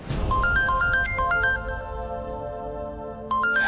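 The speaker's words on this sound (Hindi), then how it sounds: "ये तो किसी रिजवी साहब का फोन।" A phone ringtone plays in a Hindi-language TV drama, a bright electronic melody of short repeated notes that fades briefly and then starts its phrase again, loud and close with no one speaking.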